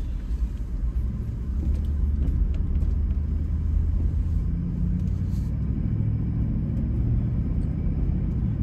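Ford F-Series pickup truck driving on the road, a steady low engine and road rumble that continues without a break, close and fairly loud.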